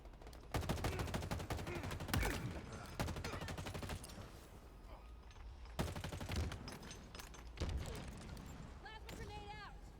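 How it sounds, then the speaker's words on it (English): Rapid gunfire bursts in Halo Infinite multiplayer, dense automatic shooting with short gaps, fairly quiet under game voice callouts. "Taking fire"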